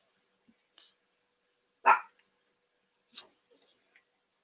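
One loud, close dog bark rings out, followed by a fainter second bark and a few soft small sounds in a quiet room.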